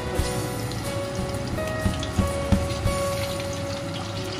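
Chicken pieces frying in oil for dry chilli chicken, a steady dense sizzle with scattered crackles and pops, close and fairly loud, over a faint tonal hum.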